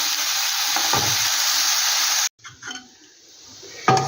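Chechi greens with bori and turmeric sizzle loudly in a frying pan, then the hiss cuts off abruptly as the pan is covered, leaving faint bubbling and a few light clatters before a sharp knock.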